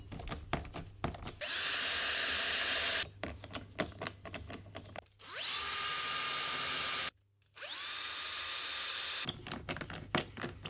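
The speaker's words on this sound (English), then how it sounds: "all I need to do is put this in place and drill" A power drill bores mounting holes for a metallophone in three long, loud bursts, each rising to a steady high whine as the bit spins up, with short clicks and handling knocks between them.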